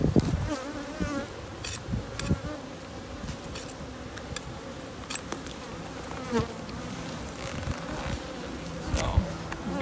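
Honey bees buzz in a steady, dense drone as hives are moved onto migratory pallets and fed, with faint knocks and handling noises scattered through.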